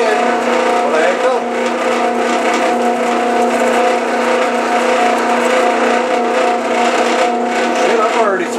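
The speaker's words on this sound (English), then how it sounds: "That's some good Harbor Freight drill bits right there." A power drill fitted with a Harbor Freight bit bores through aluminum in a garage, its motor whining loud and steady with a shrill grinding edge that swells near the start and the end.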